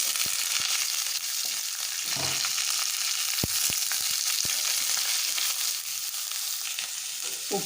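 Small onions fry in oil with coconut pieces and curry leaves, a dense close sizzle broken by a few sharp ladle clicks and stirring knocks.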